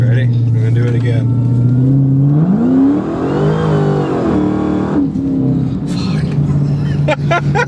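A 1000hp Dodge Challenger Hellcat doing a rolling burnout on a highway, a loud close engine roar rising sharply in pitch as it revs, then settling back, with people talking and shouting over it.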